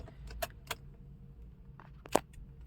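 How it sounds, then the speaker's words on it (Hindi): Car keys jangle in a Hyundai i20 1.2 IVT automatic as the key goes into the ignition: a few short, separate metallic clinks spread across a quiet cabin, the last one the sharpest and loudest. "सबसे पहले चाबी लगा लेते हैं।"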